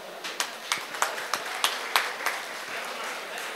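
Audience applause at a Chennai two-wheeler association anniversary event, a short burst of scattered claps with distinct individual hand strikes over a steady crowd wash, moderately loud and without speech.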